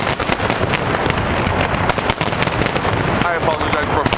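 Fireworks bursting over the ocean at the 2010 Olympics, a dense, continuous barrage of loud crackling pops and booms recorded from out on the water, with no calm gaps.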